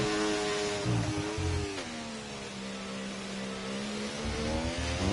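Race cars in a sim racing video game, a continuous engine drone rising and falling through gear changes, with revs climbing and dropping as cars lap close by.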